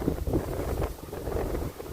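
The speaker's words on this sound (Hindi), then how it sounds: "ये पूर्वी हवा सुबह सुबह ही चल रही है।" Strong easterly wind blowing hard in the early morning outdoors, a steady loud roar buffeting the microphone throughout with gusty swells and no voices.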